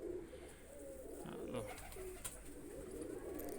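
Pigeons kept by a fancier coo softly and repeatedly nearby, in low throaty murmurs overlapping one another against light background noise.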